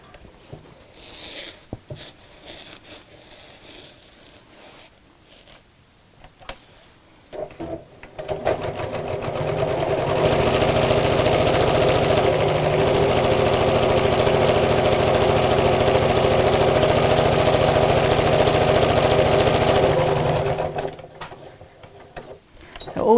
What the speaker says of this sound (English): I'm going to use a small stitch on my sewing machine